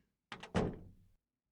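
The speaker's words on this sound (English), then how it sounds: "The door closed" A door closes in the video game Steins;Gate 0 with a couple of quick wooden knocks followed by a solid thunk that rings briefly and fades, alone against silence.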